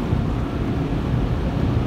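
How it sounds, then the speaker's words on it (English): Powerful car wash air blowers roar steadily over a Lexus ES 350, a dense, constant rushing whoosh close by, with no voices over it. "Got leaves under the wiper, so I'm hoping these blowers will blow some out."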